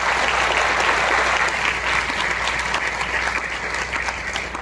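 Sustained applause from an audience at an awards ceremony in Latur, honouring five people; steady dense clapping from a large crowd, loud and continuous throughout.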